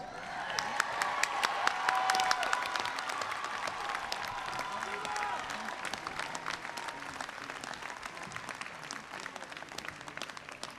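Commencement audience of alumni, parents and friends applauding Jones College degree recipients at a Rice University ceremony, a sustained wash of many hands clapping in a large hall, swelling early then holding steady throughout.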